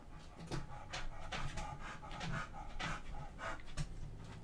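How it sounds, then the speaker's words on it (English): A dog pants heavily close by, a steady run of quick rasping breaths with occasional faint whimpers, fairly quiet and alone. "My dog breathing heavy."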